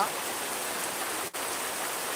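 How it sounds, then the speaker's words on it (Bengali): Steady rain falls during a low-pressure system at Dohara Bazar in Sunamganj district, a continuous even hiss heard alone, with a brief dip near the end. "যে বৃষ্টিটি হচ্ছে এটি সুনামগঞ্জ জেলা"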